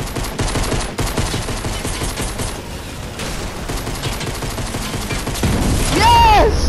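A blue pistol fires repeatedly in the Fortnite video game, rapid sharp shots in quick succession, loud and close, with game effects and a player's voice mixed in.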